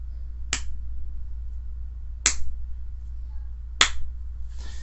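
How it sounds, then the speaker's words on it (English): A lone person in bed claps softly three separate times, each a crisp, close single clap spaced about a couple of seconds apart over a low steady hum. "What I'm going to do is just clap softly,"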